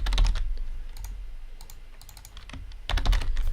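Rapid clicky typing on a computer keyboard, a burst of close keystrokes at the start and again near the end with sparse taps between, including a quick keyboard shortcut.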